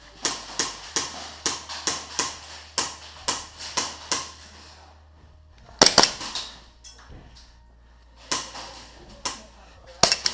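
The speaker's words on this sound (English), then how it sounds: "We got a guy shooting over here" Airsoft gunfire during a game, sharp snapping shots fired in quick irregular bursts, some closer and louder than others, with brief gaps between volleys.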